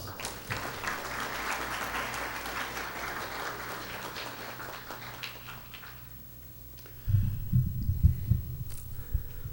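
An interfaith iftar program audience gives a speaker a round of applause as he comes to the podium. The clapping is steady and moderate for several seconds, then fades, and a low, thumping rumble follows near the end.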